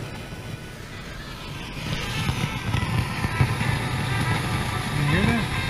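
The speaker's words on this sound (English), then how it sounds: "There, I picked up a little bit of FM." A 1959 Pioneer SM-Q300B vintage receiver under repair picks up a weak FM station, a faint, steady hiss-laden broadcast with muffled tonal fragments surfacing near the end.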